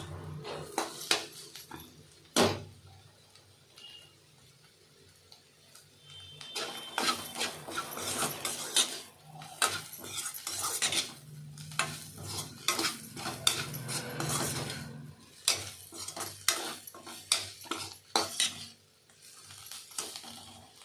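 Bitter gourd thokku with chili powder being sautéed in a pan: repeated scraping and clinking stirs come in uneven clusters over a faint sizzle, with quiet gaps between them, close and fairly soft, with no talking.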